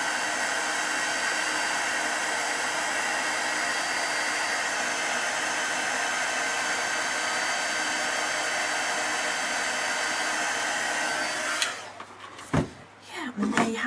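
A heat tool for embossing powder blows as a loud, steady, broadband whoosh for about twelve seconds alone, then cuts off, followed by brief handling clatter.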